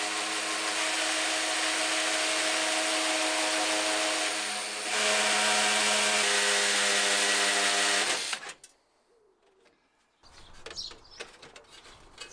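A power drill whines steadily and loudly for about eight seconds while drilling out rivets from a PC case during a sleeper PC build, then cuts off abruptly, leaving near silence before faint scraping and handling noises.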